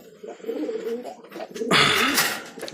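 A pair of large desi pigeons, a male and a female, coo close by in short, low, throaty phrases, with a louder flutter or rustle breaking in partway through.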